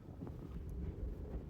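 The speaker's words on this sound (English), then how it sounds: "Man, it is gusting today." Strong wind gusts buffet the microphone at a rocky campsite in Colorado, a low rumbling, fluttering roar throughout the short moment.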